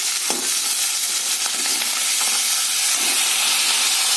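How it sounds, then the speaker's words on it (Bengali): A fish head sizzles and fries in hot oil, a steady loud hiss with occasional spatters and crackles throughout, no voices. "মাথাটাকে আমি লাল করে ভেজে নেব"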